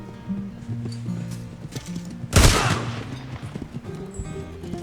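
A single loud gunshot cracks out in the Red Dead Online western game, standing out sharply against a low background of music and faint game noise.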